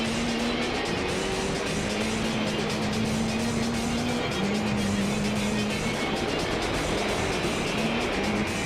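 A Mazda RX-7 engine drones steadily while racing in Gran Turismo 3, a continuous whine that rises and shifts pitch with gear changes under a constant broadband road roar.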